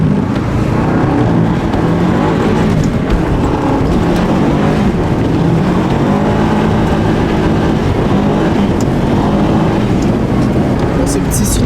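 A car drifting on a snowy road, its engine droning steadily and loudly throughout, with people talking over it.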